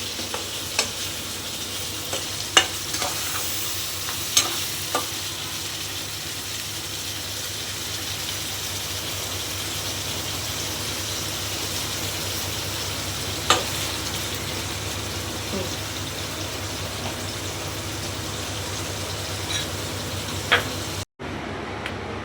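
Mutton pieces with coriander and curry leaves frying in oil, a long steady sizzle with occasional sharp spoon taps against the pan, ending in a brief cut.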